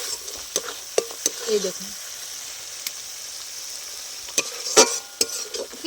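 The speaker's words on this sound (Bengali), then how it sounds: "খুব ভালো করে কিছুক্ষণ নেড়ে চেড়ে নেব" Kashmiri chili powder masala is stirred in a frying pan for a mustard-and-poppy-seed eggplant dish, with a soft, steady sizzle broken by sharp spatula taps and scrapes and a short spoken remark.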